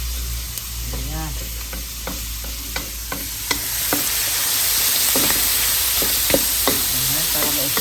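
Garlic, onion, tomato and pechay sauté in a hot pan with a steady sizzle, while a spatula makes repeated stirring scrapes and clicks throughout.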